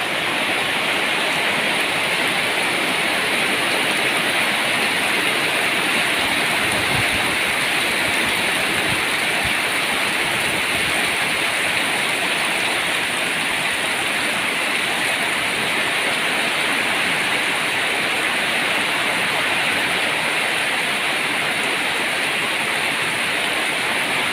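Heavy rain pours steadily over Ban Kok Kod, a dense, continuous hiss of downpour on surfaces that stays loud and unbroken throughout, with no voices.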